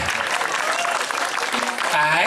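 Dense audience applause, a steady wash of many hands clapping at a Balinese comedy performance in a village temple, with a voice rising over it at the end.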